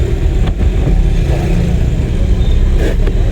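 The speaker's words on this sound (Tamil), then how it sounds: "கொஞ்சம் டக்குன்னு செகண்ட் கியர்." A car accelerating just after a quick shift into second gear during a driving lesson, its engine rumbling loudly and steadily close by with a slight rise in revs.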